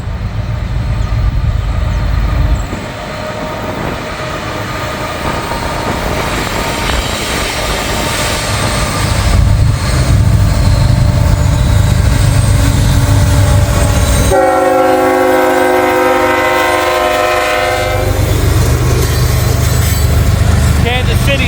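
A loaded ethanol freight train led by Kansas City Southern locomotives rumbles past close by, with steady rail clatter and a long horn blast sounding partway through.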